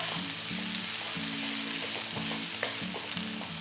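Shredded cabbage frying in oil gives a constant sizzle, layered with a looping melodic background tune and occasional soft stirring clicks.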